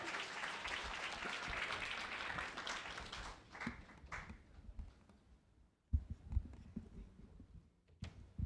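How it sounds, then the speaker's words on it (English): An orientation-day audience at UWI Mona applauds musician Michael Wilson: dense, loud clapping for about three seconds, then fading into scattered claps and quieter room noise. "Please give him a round of applause."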